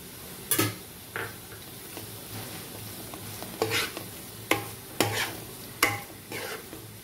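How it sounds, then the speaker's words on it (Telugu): Eggs go into a pan of half-cooked onion masala for egg masala roast and are stirred, giving several sharp scraping clacks of a utensil against the pan over a soft, steady sizzle, with no talking. "నేను ఇప్పుడు ఎగ్స్ వేస్తాను."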